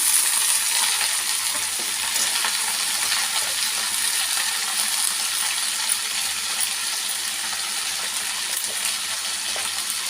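Lengthwise-cut ivy gourd (dondakaya) fries in a pan with curry leaves and browned onions, making a loud, continuous, close-up hiss of sizzling oil with faint crackles and no talking.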